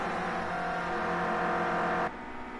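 A Clio Cup race car engine holds a high-revving, steady buzzing drone at a distance, then drops off abruptly near the end as the revs fall away.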